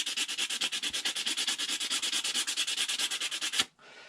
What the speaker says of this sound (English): This is 150 grit. And then just give it a little sand.